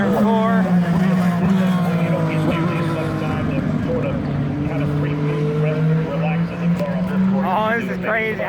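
IndyCar race cars scream past at Mid-Ohio Sports Car Course, loud sustained engine whine with Doppler pitch shifts as cars pass near turn 4, with a spectator talking over it.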